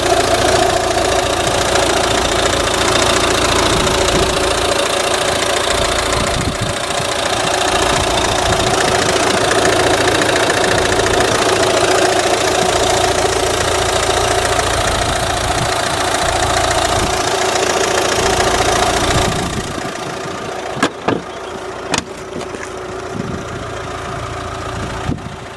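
A 2012 Volvo S60 R-Design 1.6-litre turbo diesel engine runs loudly and steadily with a low clattering idle, then quietens near the end, leaving a few faint clicks.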